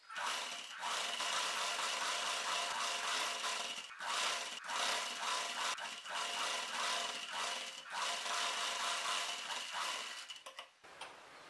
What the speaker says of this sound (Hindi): अब हम इसके किनारे से सिलाई करेंगे।